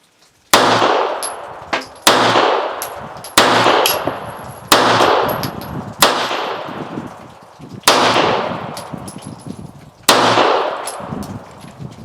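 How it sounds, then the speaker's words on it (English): A Star Firestar 9mm pistol fires seven loud, sharp shots from a factory magazine at an outdoor range, spaced one to two seconds apart, each crack followed by a ringing decay and tinkling brass. "So I'm going to fire a factory mag with this one"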